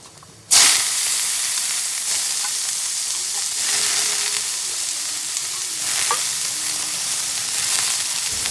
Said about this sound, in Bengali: এই যে তেল গরম হয়ে এসেছে, দুটো কাঁচা লঙ্কা চিড়ে দিলাম আর একটুখানি কালো জিরা